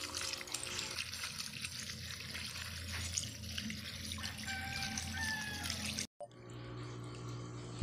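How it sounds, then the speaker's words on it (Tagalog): Water rushes steadily from a leaking PE pipe under repair after a shut-off valve is reopened, a loud continuous hiss and splash that runs unbroken before cutting off briefly and resuming. "lumakas yung tubig mga ka-tradesman"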